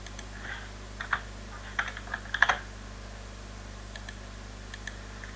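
Keys on a computer keyboard are tapped while a sketch name is entered in FreeCAD, giving short, quiet, irregular clicks in small clusters over a steady low hum.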